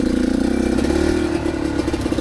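An enduro motorcycle engine revs loudly and close up, holding a steady throttle with a rough clattering pulse, then easing slightly toward the end, with no voices.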